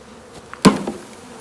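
Honey bees in a shipped package holding a caged queen give off a faint, low buzz, broken midway by a single sharp knock.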